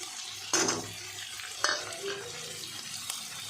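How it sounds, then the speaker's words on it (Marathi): Red chili powder, salt and turmeric frying in a pan with onion, a soft steady sizzle punctuated by two louder scrapes of a spoon stirring the mixture, close up and without speech. "हे सर्व आपण असं फ्राय करून घ्यायचं."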